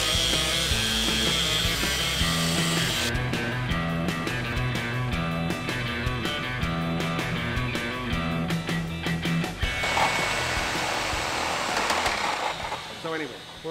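Hand sawing through a 2x4 wooden board in a budget rat rod build, with steady rasping strokes running continuously throughout, close and fairly loud, with a denser burst of cutting near the end.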